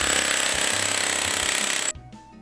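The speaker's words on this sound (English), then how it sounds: "for the really thick stuff, chipper hammers to get it up" A chipper hammer breaks up a thick old coating on a concrete floor with a loud, continuous rapid pounding that stops abruptly near the end, leaving only faint residual noise.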